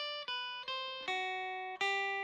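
A dry, unprocessed electric lead guitar for a worship-style song plays a short phrase of four clean plucked notes, each attack sharp and sustaining evenly, close and moderately quiet with no voices.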